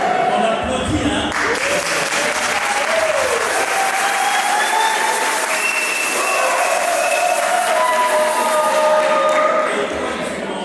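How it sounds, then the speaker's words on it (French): Wedding guests at a town hall and church ceremony applauding loudly after the bride says yes, sustained dense clapping with voices and cheers mixed in throughout. "On applaudit, hein?"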